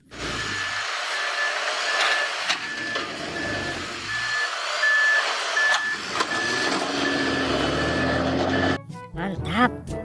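A toy dump truck gives off a steady series of high reversing beeps, close and fairly loud, with a loud clattering noise near the end.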